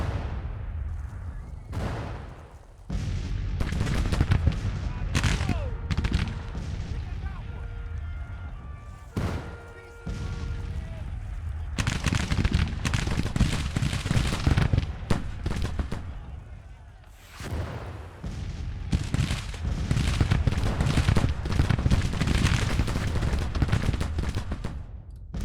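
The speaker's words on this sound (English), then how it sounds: "How's it feel to be in the middle of an artillery duel" Cannon fire from an artillery duel in the Civil War strategy game Grand Tactician rolls on almost without pause, heavy booming blasts overlapping into a loud, dense barrage with only brief lulls.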